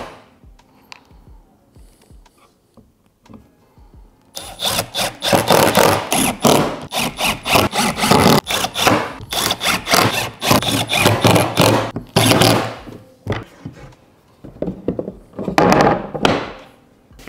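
Wooden lid retainers are screwed down on a camper storage box, with quiet handling at first, then a long stretch of loud, close, rapid grinding bursts from a driver, pausing briefly, then a few softer knocks.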